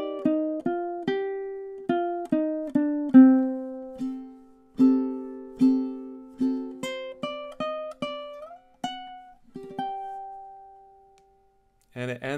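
Plucked and strummed ukulele chords ring out one after another at a relaxed pace, each decaying before the next, ending on a sustained chord.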